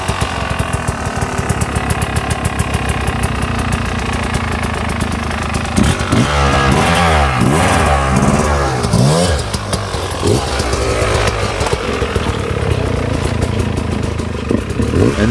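A Yamaha YZ250X HE two-stroke hard enduro motorcycle runs loudly and close throughout, its raspy engine chugging and blipping the throttle in uneven revs as it climbs over obstacles.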